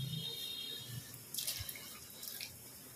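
A kitchen tap runs while hands are washed before cooking, giving a steady soft wash of water with scattered drips and splashes at moderate distance, with no voices.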